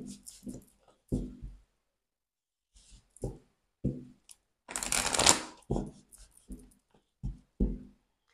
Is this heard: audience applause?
no